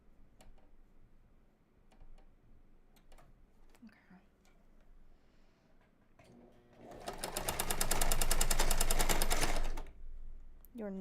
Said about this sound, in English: Let's try this overcast stitch real quick.